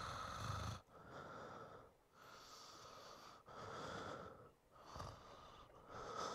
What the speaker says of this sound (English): He's breathing in the phone.